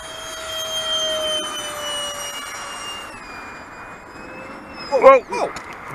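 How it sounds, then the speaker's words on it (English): A high-pitched whine from an RC model airplane's electric motor sweeps past and fades downward in pitch, followed by a brief exclamation and louder handling noises near the end. "Whoa! That's just the plane."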